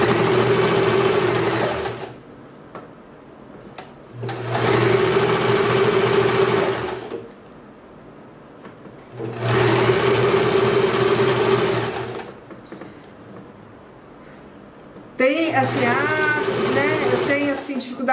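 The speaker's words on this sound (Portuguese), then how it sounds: "Na hora que eu vou costurar, vai devagarzinho, gente." A sewing machine stitches towel fabric in three long runs of steady, close whirring, separated by quiet pauses, with a fourth run starting at the end; someone speaks Portuguese between the stitching bursts.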